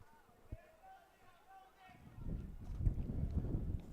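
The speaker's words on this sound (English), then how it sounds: "Very gusty right now. Very windy right now." Gusty wind buffets an outdoor varsity lacrosse game, quiet at first, then a loud, low rumbling roar of gusts swells over the microphone for the second half.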